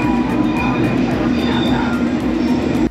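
London Underground tube train running inside a carriage, a steady loud rumble with a strong low hum and faint high whine throughout, with faint talk mixed in.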